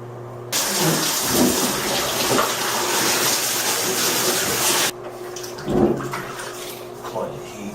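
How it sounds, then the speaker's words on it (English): A bathtub fills with water for a bath, a loud steady gush that runs for about four seconds and then cuts off, leaving quieter room sounds and a few brief noises. "Here's my bathtub. Commence bathing."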